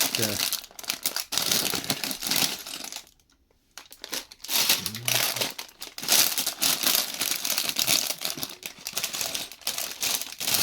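Plastic bags from a 2025 Lego City donut van set crinkle and rustle loudly and steadily while the set is unpacked. The rustling stops in a brief pause partway through, and a person talks throughout.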